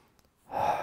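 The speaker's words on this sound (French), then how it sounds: "Je respire, respiration calme." A person doing a training exercise takes a calm breath, heard as a single soft, airy exhale that rises after a short quiet moment.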